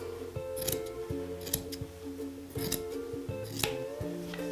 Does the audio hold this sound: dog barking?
no